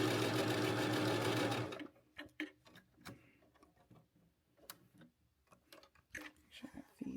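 A sewing machine with a walking foot stitches a garment seam in a loud, fast, steady whir for nearly two seconds, then stops, leaving quiet handling clicks and rustles while a voice speaks.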